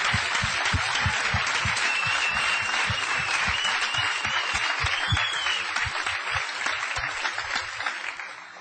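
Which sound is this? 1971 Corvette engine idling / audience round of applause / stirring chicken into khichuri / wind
audience round of applause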